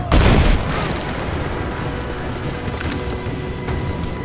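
A heavy boom opens the clip in Rise of the Tomb Raider, followed by sustained crackling gunfire and rumbling battle noise at steady loudness.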